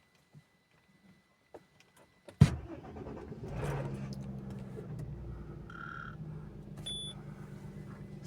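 A car engine cold-starts after a few faint clicks: a sudden crank and catch, then a steady, rough idle that settles into a continuous low hum, with light electronic beeps later.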